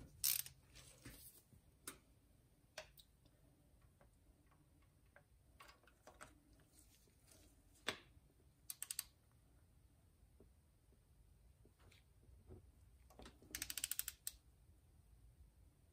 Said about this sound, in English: just a little turn with the wrist ratchet